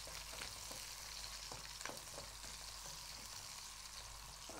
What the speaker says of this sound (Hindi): आपने जब इसको स्टर फ्राई करना है बिल्कुल लो पे नहीं होनी चाहिए